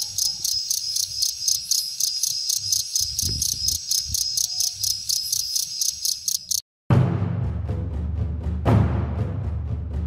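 Cricket chirping in fast, regular pulses, close and steady for several seconds, then cut off abruptly and followed by a different rustling, scraping noise.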